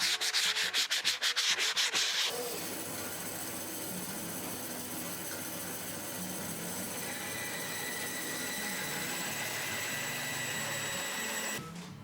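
320-grit sandpaper rubs across a wooden interior surface, starting with a quick series of rhythmic strokes before settling into a long, steady close-up scratching hiss.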